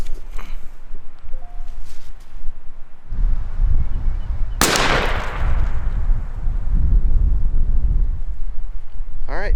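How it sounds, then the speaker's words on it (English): A turkey shotgun loaded with turkey shells fires a single loud, sharp blast at a 20-yard target, followed by a long rumbling decay over steady wind noise outdoors. "I'm going to shoot at the middle dot and check this point of impact."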